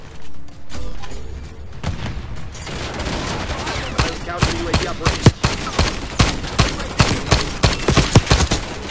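Rapid automatic gunfire in a Call of Duty Black Ops 6 match, dense bursts of sharp shots building into a steady fast rhythm, loud and close, over a busy game mix.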